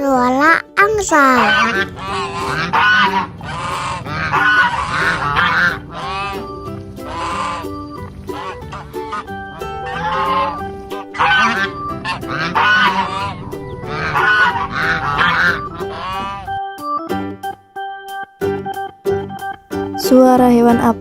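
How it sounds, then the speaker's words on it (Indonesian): Repeated goose honks sound loud and close in a series of bursts, with a child-like voice and other animal calls mixed in. "Ini suara angsa."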